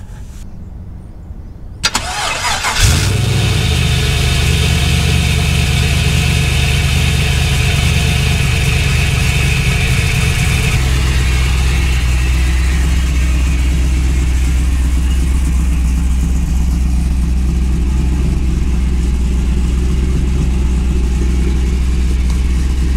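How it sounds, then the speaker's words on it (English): An LS engine fitted with a new LT-style starter cranks briefly, catches and settles into a loud, steady idle that runs on for about twenty seconds, close up. "we're ready to crank this guy"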